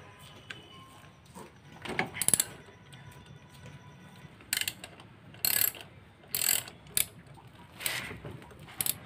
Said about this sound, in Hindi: तो सबसे पहले हम 8mm के ये सारे वोल्ट खोल देते हैं।